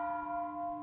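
A Buddhist temple bell rings with a sustained, steady tone, its bright metallic partials holding evenly through the short moment, loud and close with no other sounds around it.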